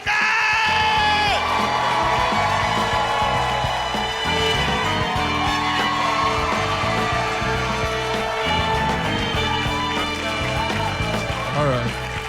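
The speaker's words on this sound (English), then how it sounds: "The man you all come to see, start clapping now for Mr. Wyatt Sutton!" A loud comedy-show audience in Brooklyn cheers, whoops and claps continuously, with excited shouts rising above the din throughout.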